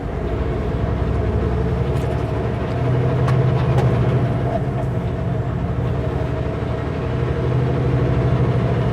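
Semi truck engine held in 12th gear while descending a snowy hill, a loud steady low drone and rumble from inside the cab, swelling slightly midway with faint rattles and no talking.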